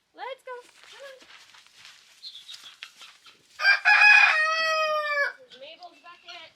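A rooster crows once, loud and close, among clucking chickens in a homestead calf barn; the drawn-out crow rises above scattered hen calls and a voice talking before and after.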